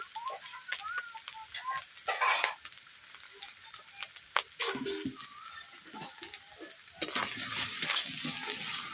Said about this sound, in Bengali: সবগুলো মশলাগুলোকে আমি এক থেকে দু মিনিট কষিয়ে নিচ্ছি এইভাবে